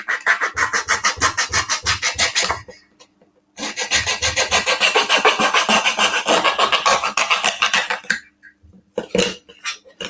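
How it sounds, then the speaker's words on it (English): Sandpaper rubbed back and forth over a small Titanic model part, a fast rhythmic rasping close up in two long bursts with a short pause between, then a few brief strokes at the end. "Needs sandpaper really."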